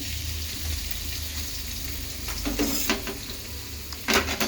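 Paneer cubes hit a hot pan for a paneer and mushroom chili, setting off a steady loud sizzle, with a few scraping stirs and clinks of a utensil against the pan toward the end.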